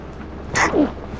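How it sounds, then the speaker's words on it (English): A short, stifled near-sneeze, close and abrupt: a quick breathy burst followed by a second brief catch, set against a quiet background. "Nearly sneezed."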